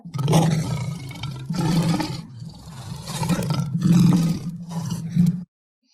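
An angry lion roars in a series of rough, rumbling bursts, loud and close, rising and falling several times with no talk.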